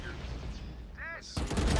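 Gunfire in the shooter game Valorant, a short burst of shots landing near the end over a steady noisy game background, fairly loud and close.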